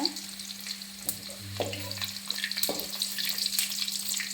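Finely chopped onions fry in a pan for tamarind chutney, a close, steady sizzle broken by a few stirring scrapes, with no talking.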